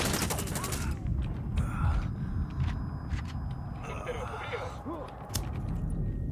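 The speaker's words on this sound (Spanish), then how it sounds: "Los disparos vienen del banco." Gunfire rattles in Tom Clancy's Ghost Recon Wildlands from near a bank, with rapid bursts and scattered shots over game ambience and a low rumble, moderately loud with a voice faintly audible.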